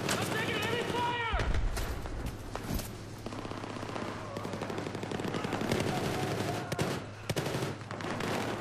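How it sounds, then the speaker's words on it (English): Heavy automatic gunfire and repeated shots from the video game Battlefield 4, a dense continuous barrage with sharp bursts, under a constant game background rumble. "I'm taking heavy fire!"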